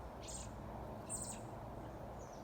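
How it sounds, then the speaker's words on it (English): Two robins calling in a tree, a few short high chirps at about mid distance over a steady low background rumble, with no talking. "These 2 robins are arguing in this tree."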